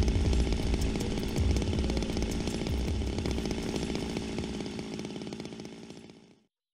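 A chainsaw in the video game Zero Time Dilemma roars and rattles loudly for several seconds, its buzzing engine holding steady before cutting off and fading to silence.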